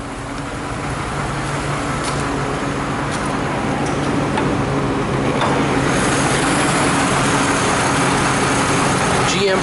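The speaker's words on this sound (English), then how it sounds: "The car idles fantastic." A 2006 Chevrolet Trailblazer SS with the hood open idles its LS2 V8, the Corvette engine, in a steady, even rumble that holds unchanged and fairly close throughout.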